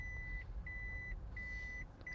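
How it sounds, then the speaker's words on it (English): Repeated electronic beeps of a reversing truck, three long tones at an even pace over a low engine rumble in the distance. "That beeping sound."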